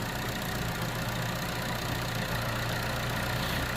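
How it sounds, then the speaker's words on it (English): Car engine held at a steady 2500 RPM, close and loud: a continuous even drone with no change in pitch or level and no speech. "let it idle and set the RPM to 2500 for 30 seconds"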